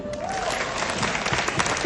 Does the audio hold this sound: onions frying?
no